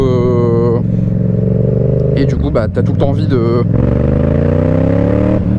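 A Yamaha MT-07 motorcycle engine drones steadily while riding, loud and close, its pitch rising with acceleration, and a rider talks over it midway.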